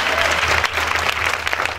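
A congregation at a spiritual retreat bursts into dense, steady applause, a brief close wash of many hands clapping together with faint crowd voices underneath.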